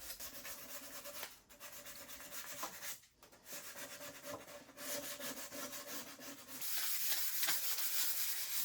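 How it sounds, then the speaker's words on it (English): Folded sandpaper rubs by hand along the curved decorative edge of a French Provincial wooden furniture piece, a steady close scratching with rhythmic back-and-forth strokes and brief pauses. "I just take the quarter piece of sandpaper, I fold it in half and just get into the creases that way"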